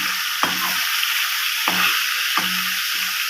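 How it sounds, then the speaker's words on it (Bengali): Rohu fish pieces fry in smoking-hot oil, a steady loud sizzle broken by three sharp bursts as pieces are added or shifted in the pan. "একসাথে সব মাছ দেবো না হালকা হালকা করে ভাজবে একটু ভালো ভাজা হবে"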